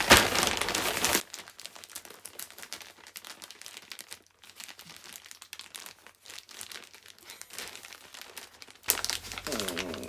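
Plastic packaging crinkles and rustles up close as it is opened, a long stretch of steady crackling handling, with a person speaking briefly at the start and end.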